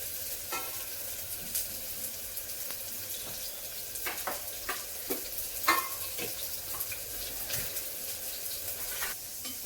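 Vegetables for veg pulao frying in a pan, a steady close sizzle with scattered pops and crackles and occasional stirring scrapes throughout.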